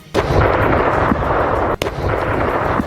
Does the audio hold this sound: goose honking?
no